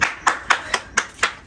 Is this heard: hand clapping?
yes